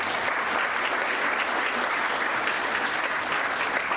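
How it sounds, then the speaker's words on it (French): Steady, dense audience applause at the 2019 UCMF awards ceremony in France, many hands clapping evenly and loudly throughout with no pauses. "Le festival, oui, on peut l'applaudir."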